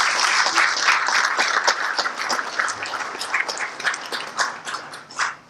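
An audience applauds after a speech at an ICAI event, a dense, continuous wash of many hands clapping that stays loud and steady throughout, then tapers slightly near the end.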